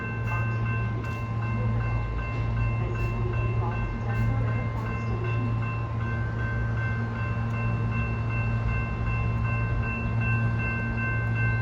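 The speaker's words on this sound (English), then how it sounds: "take a breather so we can watch this A line train to DIA depart" RTD A line commuter train to Denver International Airport pulling out of the 38th and Blake station, a steady loud rumble with droning motor tones and a few light clicks throughout, heard close by.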